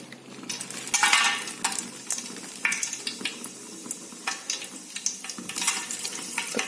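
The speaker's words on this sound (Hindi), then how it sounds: "भगोना मेरा गर्म हो गया है। तेल भी मैंने इसमें 2 चम्मच डाल दिया है। और इसमें थोड़ा सा खड़ा मसाला ऐड करूंगी।" Whole spices (bay leaf, cinnamon stick, cloves, cumin and shahi jeera) fry in two spoons of hot oil in a heated pot, a crackling sizzle punctuated by sharp scrapes and clinks of a spoon stirring against metal.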